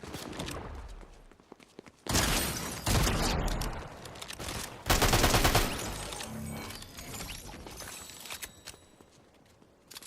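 Shotgun blasts from a new shotgun in the Fortnite video game, several loud broadband bursts around two, three and five seconds with quieter footsteps and game noise between them.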